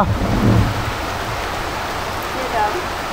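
Steady heavy rain with a low rumble at the start; a voice is heard faintly beneath the downpour.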